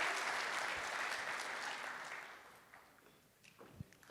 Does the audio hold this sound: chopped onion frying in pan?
no